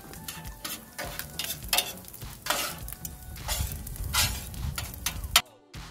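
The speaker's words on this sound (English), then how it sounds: "And now add the cooked rice and mix it well with the eggs." Cooked rice and scrambled eggs sizzle on a hibachi grill while a spatula stirs and scrapes, with rhythmic scraping strokes over a steady fry, ending in a sudden short silence.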